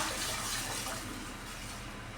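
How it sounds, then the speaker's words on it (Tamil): Water poured into a pot of rasam (Tamil pepper water) made with tamarind and dal water, a steady broadband splashing and trickling that stays fairly loud and even throughout, with no voices. "நம்ம புளிப்புக்கு தகுந்த தண்ணி ஊற்றிட்டேன்"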